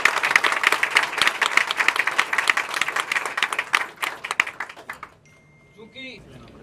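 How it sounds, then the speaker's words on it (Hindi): Audience applause welcoming a state chief minister at a news-room event, dense rhythmic clapping that fades out after about five seconds, followed by quiet with a faint voice. "मैं चाहूंगा पहले सब लोग जोरदार तालियों से उनका स्वागत करें।"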